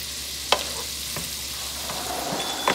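Shrimp and grits seasoned with Tony Chachere spice are stirred in a hot pan, a steady sizzling hiss broken by a few separate scraping strokes, loud and close.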